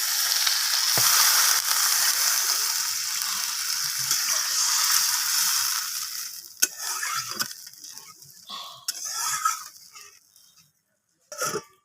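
Fish curry gravy with potatoes bubbling in a covered pan, a steady hissing simmer that gives way to scattered clinks and lid or utensil knocks, close by, with no talk.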